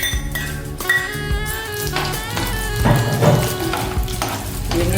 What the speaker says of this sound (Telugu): నెయ్యి కాగిన తర్వాత ఇందులో మనం డ్రై ఫ్రూట్స్ వేసుకున్నాము.